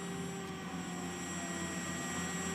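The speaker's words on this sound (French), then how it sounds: "l'hélicoptère Caïman Marine se tient prêt à décoller pour ses interventions" A Caïman Marine rescue helicopter readies for takeoff on an airfield, with a steady, dense turbine whine and engine rumble that holds unbroken and fairly loud throughout.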